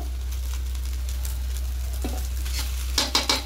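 Plain white rice fried in ghee over a high flame, giving a steady, close sizzle. A few sharp clinks of a utensil stirring the pan come near the end.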